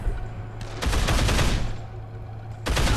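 Rifle gunfire in the video game Dead Island: two loud bursts of rapid shots, the first long and rumbling and the second starting near the end, over a low steady hum.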